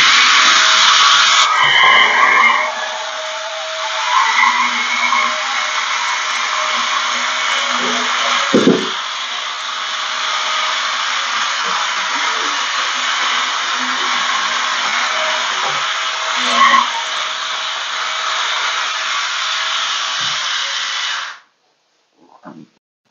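A Prasky 10-in-1 electric spin scrubber fitted with a pointed corner brush runs close up with a steady, loud motorized whir for about 21 seconds. Brief scraping bumps come as the brush presses into corners, and then the motor stops abruptly.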